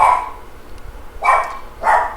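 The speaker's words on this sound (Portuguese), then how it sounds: "Meu cachorro tá latindo, né?" A dog barks three times indoors, loud and close, with short pauses between the sharp yaps during an online class.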